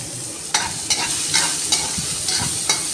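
Onions sauté in a pan for thoothuvalai soup, a steady sizzle broken by a regular series of scraping stirs about every half second, close and clear with no talk.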